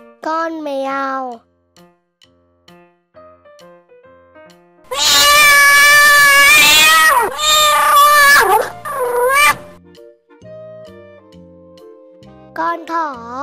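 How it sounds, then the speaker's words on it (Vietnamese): A cat meows loudly and close in a long, drawn-out wail lasting several seconds, in a cartoon animal lesson for small children, with short childlike vocal calls before and after. "Con mèo."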